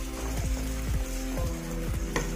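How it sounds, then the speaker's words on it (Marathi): Finely chopped ridge gourd is added to a pan of frying masala, giving a steady close sizzle with a few soft scraping stirs. No voices are heard. "मसाला छान भाजल्याच्या नंतर आपण त्याच्यामध्ये बारीक कट केलेले गिलके टाकून"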